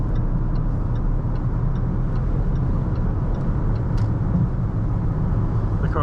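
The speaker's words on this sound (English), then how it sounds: "So let's just accelerate and you'll see what the car really does." A steady, loud roar of road and engine noise from inside a Jaguar E-Pace SUV accelerating on a highway, holding constant throughout with no speech.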